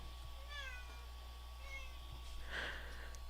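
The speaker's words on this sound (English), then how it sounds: "That's an actual real cat wanting to get out." A house cat meows to be let out, giving two distinct rising-falling meows over a steady electronic hum in a room, with a faint rustle afterward.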